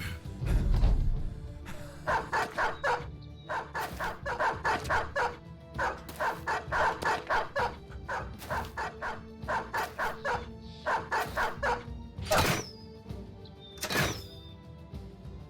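A pack of dogs barks in a battle in the video game Battle Brothers, with rapid continuous clusters of barks and yips, loud and busy, ending in a few separate sharp sounds.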